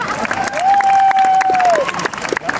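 Children and adults in an audience applaud loudly at a fairy-tale storytelling event, steady close clapping with cheering and a held whistle-like tone over it.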